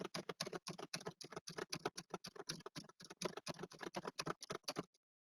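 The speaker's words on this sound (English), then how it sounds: "People, I'm just typing random things." Rapid typing of random text on a computer keyboard, a dense run of crisp key clicks lasting about five seconds, close and fairly loud with no voices, then ending abruptly in silence.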